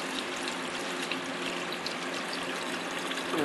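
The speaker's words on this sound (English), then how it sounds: "Right now I'm adding the distilled water." Distilled water is poured into a hydrogen cell, a steady soft trickling stream running the whole time at low volume with no voices.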